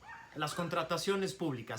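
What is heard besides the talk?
dog barking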